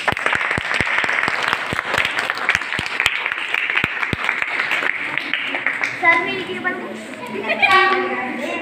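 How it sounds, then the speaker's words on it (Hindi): Sharp, rhythmic clapping from a group fades into chatter, with children's and adults' voices taking over toward the end. "सब तालियां।"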